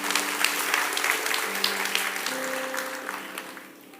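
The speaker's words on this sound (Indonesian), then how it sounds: "berikan tepuk tangan bagi Tuhan" A church congregation breaks into applause during a sermon, a dense burst of clapping with a few faint voices under it that fades out toward the end.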